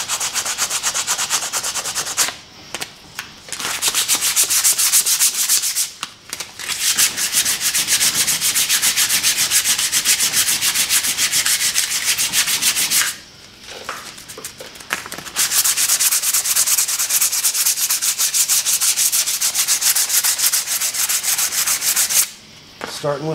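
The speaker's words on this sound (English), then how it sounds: "Starting with the 60 grit, and we'll work our way down." Coarse 60-grit sandpaper scrubs an old factory finish off a wooden hatchet handle in long, loud, continuous strokes, broken by a few short pauses, with no talking.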